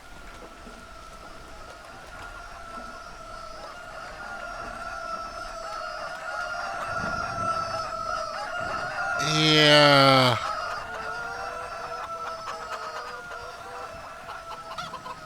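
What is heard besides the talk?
roosters crowing in a farming video game, looping bug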